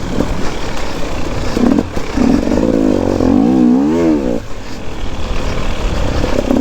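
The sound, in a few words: enduro motorcycle riding through mud in third gear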